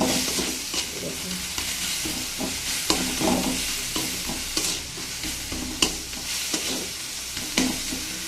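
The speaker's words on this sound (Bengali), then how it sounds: "লাল শাকটাকে শুধু কালো জিরে ফোড়ন দিয়ে নেড়ে চেড়ে ভেজে নিয়েছি" Red amaranth greens stir-fried with black cumin seeds, a steady sizzle in the pan with repeated scraping stirs at an irregular rhythm, close and moderately loud, with no talking.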